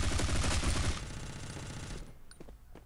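Rapid gunfire in the shooter game Bullet Force, a dense, loud automatic burst for about a second, then weaker fire and a few scattered sharp shots further off.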